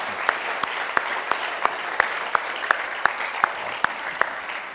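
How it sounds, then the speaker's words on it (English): Audience applause after a talk about the West Bank, a steady wash of clapping from a seated crowd with sharper individual claps standing out at regular intervals, moderately loud throughout. "Let's give him one more round of applause."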